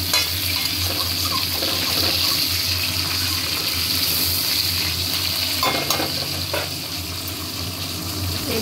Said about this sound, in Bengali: মাছ মুড়ো ভালো করে ভেজে নিয়েছি, এবারে পাঁচফোড়ন দিচ্ছি।